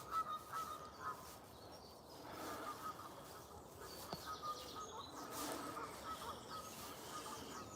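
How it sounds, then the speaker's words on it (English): Geese honk faintly in the distance during an early morning walk through a suburban park, their calls scattered and thin against soft outdoor ambience. "There's some more geese."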